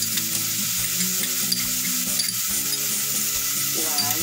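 Garlic frying with onion in a pan, a loud continuous close sizzle with fine crackling and occasional stirring scrapes.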